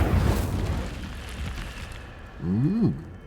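An Incendio fire spell is cast in Hogwarts Legacy, a burst of roaring whoosh with a short swooping magical tone at its tail, loud and brief over game ambience.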